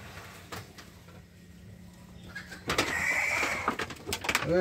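Pigeons kept in a home loft coo softly at first; a quiet stretch of low ambience then gives way to louder rustling and cooing bursts near the end.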